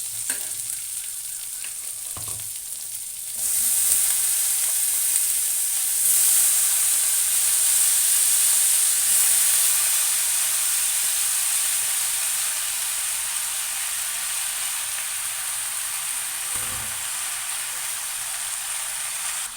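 Cut eggplant pieces frying with onions in a pan: a loud, steady sizzle and hiss that swells as the pieces go in, with a few soft scrapes and knocks along the way.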